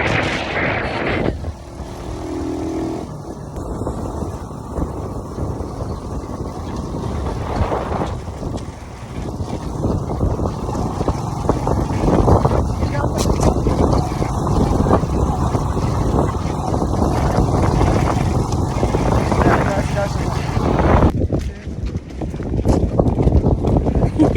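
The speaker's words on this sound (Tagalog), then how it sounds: "Tignan mo, sobrang hangin dito." Strong wind roars and buffets the microphone continuously, a loud, blustery rush that swells and dips over a long stretch.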